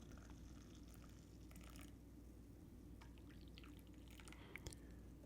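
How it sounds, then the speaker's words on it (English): Freshly brewed coffee pours steadily into a cup, a quiet continuous trickle with a few faint drips and splashes near the end. "and pour it"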